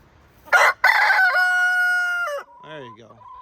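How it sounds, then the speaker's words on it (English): A rooster in a backyard chicken flock crows loudly and close by in one long, drawn-out call, followed by a few softer clucks and squawks. "the rooster will stand up here and just kind of make his voice known"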